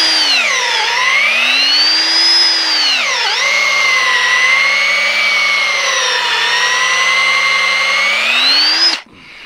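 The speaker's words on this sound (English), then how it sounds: "You gotta keep peck drilling it because the chips can't get out." Powered drill boring a hole for a fence corner post, a loud close whine that sags and recovers in pitch as the bit bites and is pecked in and out, then cuts off abruptly.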